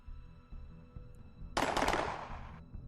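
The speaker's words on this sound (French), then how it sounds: "Des coups de feu retentissent." A single loud burst of gunfire cuts through a quiet low hum, ringing out for about a second before fading.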